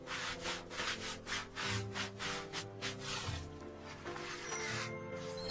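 A sponge scrubs a kitchen pan in quick, steady back-and-forth strokes, a close rhythmic rubbing that carries on for several seconds over a faint tonal background.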